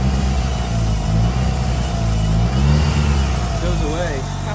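A Mitsubishi Lancer Evolution IX engine with an over-boosting fault idles roughly, then revs up in a couple of swells before settling back, close and steady throughout.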